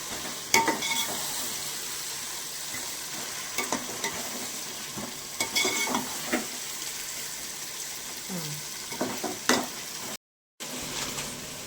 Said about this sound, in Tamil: இஞ்சி பூண்டு இதில் போட்டு நல்லா வதக்கி பச்சை வாசனை போகிறதுக்கு நல்லா வதக்கிடுவேன்.